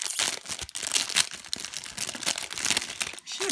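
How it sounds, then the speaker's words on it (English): Plastic packaging crinkles and rustles in quick, irregular bursts at close range while wax melt chunks from a Valentine's Day box are unwrapped. "I tried to be cognizant of all the crinkling noises"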